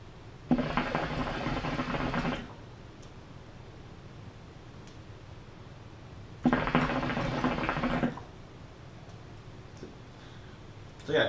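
Hookah water bubbles in two steady bursts of about two seconds each as smoke is drawn through a Dream Hookah glass-tip hose. Each burst is a loud, close, continuous gurgle, with quiet pauses between them.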